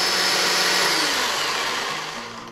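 A 40-volt battery electric chainsaw runs steadily with a high, smooth whir, loud and near, tapering slightly toward the end with no voices.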